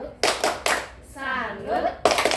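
A group of teachers at a school session claps a rhythmic salute clap, several sharp bursts of hands in a pattern alternating with voices chanting along.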